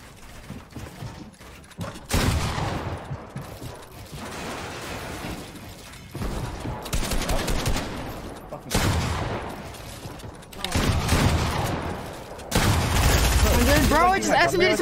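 SMG gunfire in a Fortnite zone wars match, rapid bursts of shots mixed with building and mechanical clatter in repeated loud spells, with people talking over the action.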